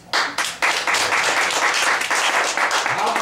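A bar audience applauds for a band about to play, a brief close burst of clapping that starts sharply and stays loud for about three seconds.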